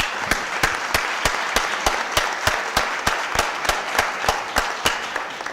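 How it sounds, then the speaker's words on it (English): A few people at a city Board of Aldermen meeting clapping in a slow, even rhythm, loud, close, distinct claps repeating about three times a second over a low background murmur. "Let's give them another big round of applause."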